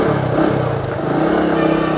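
Bajaj V motorcycle engine running steadily up close with a low, throbbing idle rhythm, loud and continuous with no talking over it.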